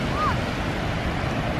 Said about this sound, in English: this is where the sneaker waves come up and grab you